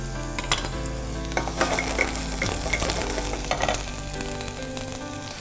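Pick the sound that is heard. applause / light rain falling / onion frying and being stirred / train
onion frying and being stirred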